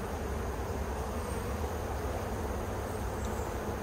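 Honeybees shaken in a mite-count jar make a steady, dense buzzing hum that fills the whole stretch at close range, with no talk over it.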